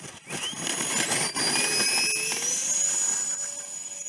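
Small twin 70mm electric ducted-fan RC Gulfstream G650 model jet throttling up for takeoff, a steady high-pitched whine with rising tonal sweeps, fairly close and loud throughout.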